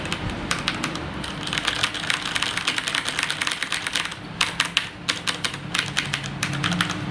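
Filco Majestouch mechanical keyboard keys clack in quick, uneven bursts of typing, close and crisp, with a few brief pauses between runs.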